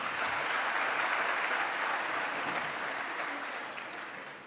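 An audience at a school annual day event gives a sustained round of applause, a steady wash of many hands clapping that fades slightly toward the end, with no speech over it.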